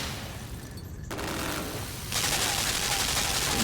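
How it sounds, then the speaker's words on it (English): Machine gun fire in the side-scrolling video game Limbo, a steady broadband rattle that grows louder partway through and continues to the end, with no clear speech over it. "there's another machine gun. We need to just stay under it as it fires."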